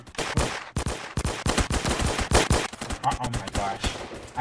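Rapid pistol shots in a Roblox shooter game crack out in quick irregular bursts, loud and close, with a player's brief exclamation over the firing.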